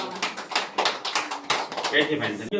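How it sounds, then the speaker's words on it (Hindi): A church congregation claps hands in thanks during a Hindi worship service, with quick bursts of applause-like clapping throughout, running under and alongside a speaking voice. "ताली बजाकर परमेश्वर का धन्यवाद करते"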